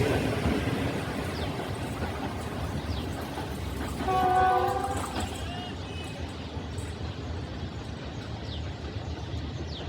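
A train rolls through Badamibagh railway station, its steady rumble and clatter of wagons filling the scene, with a brief horn blast near the middle before the passing noise continues.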